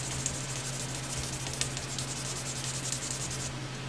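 Sandpaper rubs along the neck of a Fender Stratocaster guitar during a truss rod repair, giving a faint, continuous scratchy hiss with light strokes, over a steady low electrical hum.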